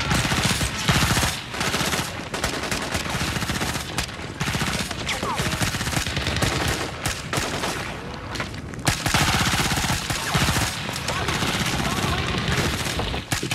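A DShK heavy machine gun fires in sustained, dense bursts through a loud combat scene, the rapid gunfire mixed with heavy booms and scattered shouting voices.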